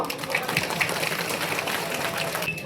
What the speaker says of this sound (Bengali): একটু জোরদার তালি আমার জন্য